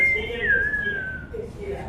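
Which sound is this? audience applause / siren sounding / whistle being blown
whistle being blown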